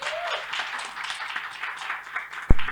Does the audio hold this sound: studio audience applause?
yes